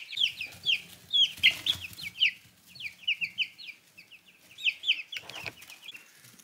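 High, repeated peeping calls from young ducklings of assorted breeds in a brooder chirp in quick bursts throughout, fairly close, with soft rustling and shuffling beneath.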